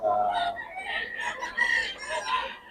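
A dense chorus of chickens and roosters, overlapping crows and clucks blending together at moderate distance, at a gamefowl farm in Bocaue, Philippines.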